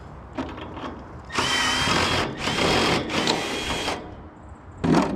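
Power drill driving stainless screws with a 1/4-inch hex drive while fitting a chimney part, several loud bursts of whirring, each a second or so long, close up with no talk.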